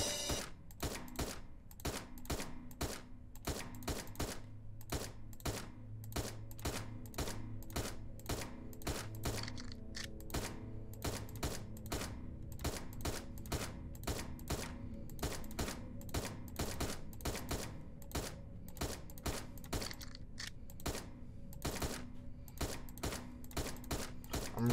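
Rapid automatic gunfire rattles at a shooting range in the video game Dino Trauma, a continuous stream of fast, evenly spaced shots with brief pauses.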